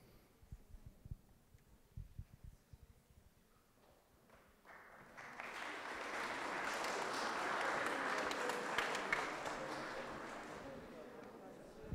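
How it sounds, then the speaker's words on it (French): At the end of a lecture on secularism in Armentières, quiet talk gives way to a swell of audience applause that builds and holds steady, soft and somewhat distant, over the second half. "C'est peut-être des applaudissements qui veut dire qu'on s'arrêterait bien."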